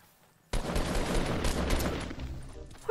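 Video game gunfire: a sudden, dense burst of rapid shots that starts abruptly and rattles on continuously, loud and close, with no talking over it.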